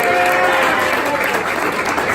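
An audience at a live comedy show applauds and cheers, a dense, steady wash of clapping filling the room for a couple of seconds.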